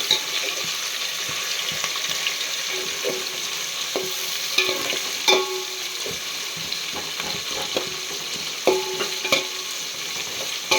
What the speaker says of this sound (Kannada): ಆಮೇಲೆ ಈರುಳ್ಳಿ ಫ್ರೈ ಮಾಡ್ತಾ ಹೋಗಬೇಕು.